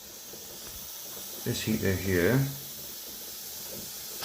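Steam escapes from two probes in an overheating Sage/Breville BES920 dual boiler coffee machine, making a faint, steady hiss throughout, with a short spoken phrase partway through.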